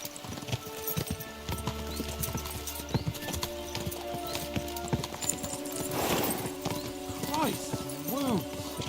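Horses gallop in Kingdom Come Deliverance 2, their hooves clip-clopping steadily and close, with a few whinnies and neighs near the end, over background music and voices.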